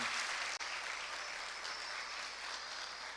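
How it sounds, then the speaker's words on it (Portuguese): Applause from a church congregation fills the room, steady and full, with a brief dip near the start before clapping resumes at even loudness throughout. "Você pode aplaudir o Senhor pela vida do pastor Jorge Luiz?"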